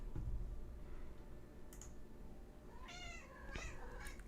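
A cat meows insistently, a few drawn-out, rising calls close by, with faint clicking in the quiet background.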